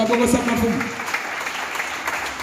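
A church congregation claps in praise of the Lord, a dense, steady patter of many hands filling the room from start to finish, with a voice briefly audible at the outset.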